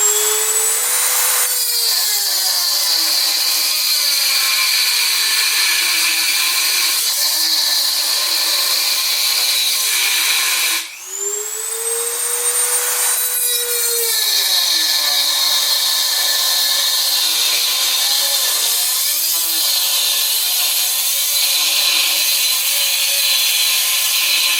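A saw cuts through a part of a Prinsu roof rack on a 2018 Toyota Tacoma. It makes a loud, steady, close grinding whine that runs almost nonstop and breaks off briefly about halfway through.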